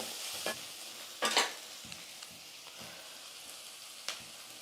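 A spoon stirs turmeric and asafoetida spices in a pan for potato masala, producing quiet sizzling with a few scraping strokes and light taps.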